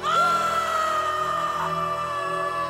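A sustained, wailing cry of Amazon tribesmen screaming from a mountaintop in a film trailer rises sharply, then holds a long, loud, steady note before fading slightly.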